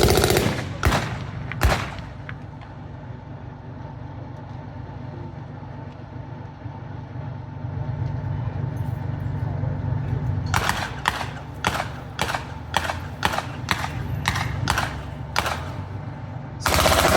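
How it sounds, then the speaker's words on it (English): Re-enacted WWII battle with a Universal Carrier crew firing a machine gun: a few sharp isolated shots early, then a rapid string of close, loud bursts over a steady engine rumble. "they're still trying to fire away with a machine gun"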